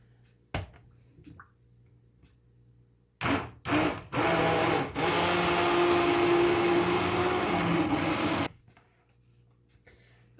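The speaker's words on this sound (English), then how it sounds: "Now I'm going to use my immersion blender. And I'm going to blend this up so it's nice and smooth." An immersion blender whirs loudly and steadily for several seconds, puréeing food smooth, with brief starts and stops before it and quiet kitchen rustling around it.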